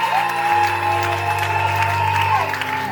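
A church congregation acclaims and applauds during a worship service, crowd cheering and clapping under sustained organ or keyboard tones, loud and continuous.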